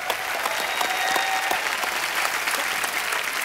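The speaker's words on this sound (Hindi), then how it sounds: "फ्रेंडशिप अनलिमिटेड की पूरी कास्ट के लिए एक बार जोरदार तालियां हो जाएं।" Dense studio audience applause for the cast of Friendship Unlimited on a Hindi comedy talk show, a steady roar of many hands clapping at even loudness throughout with no talk over it.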